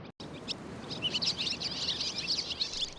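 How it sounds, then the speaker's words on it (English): Swallows nesting around a whisky distillery on Islay in late summer, giving a steady stream of high twittering calls over a constant rushing background, fairly distant. "there's a restless mood amongst the swallows that have spent summer nesting in the whiskey distilleries"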